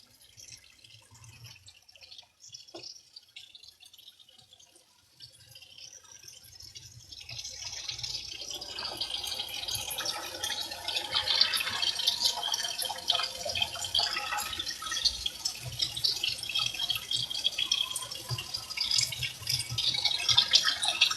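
Tap water runs into a sink while plates are washed, starting with faint drips and clinks, then swelling into a steady close hiss of running and splashing water that continues to the end, with no talk.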